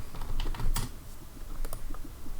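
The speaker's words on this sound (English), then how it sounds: "And we can type our name." Rapid, close keystrokes on a computer keyboard as a name is typed into a packaged Unreal Engine 4 visual novel game, an irregular clatter of clicks with no talking.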